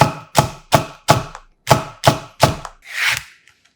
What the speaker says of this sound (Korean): 대파잎 2개도 1cm 두께로 송송 썰어주고